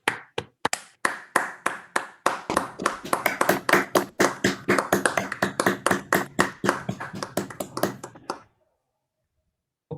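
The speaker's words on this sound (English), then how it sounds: "propose that we clap for Rangel again" Audience applause for a speaker after a mathematics seminar talk, starting with a few scattered claps that swell into steady, moderately close clapping for several seconds, then stopping abruptly.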